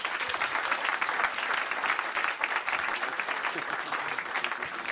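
Audience applause at a live cultural event, a dense, lively patter of many hands clapping at steady volume from start to finish with a faint murmur of voices beneath.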